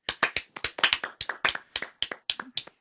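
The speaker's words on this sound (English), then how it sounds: "How about a round of applause for Cooler 250?" Applause for a winner on a live weather trivia show: about a dozen crisp, evenly spaced hand claps, close and clear, with no talking over them.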